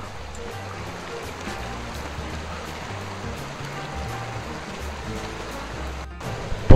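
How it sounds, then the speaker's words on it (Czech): Hamerský potok, a mountain stream in the Šumava foothills near Kvilda, flows with a steady, fairly soft broadband rush of water, unbroken and alone, ending with a brief thump. "Potok pramení z mnoha malých potůčků, které vytékají z mezilesní slatě."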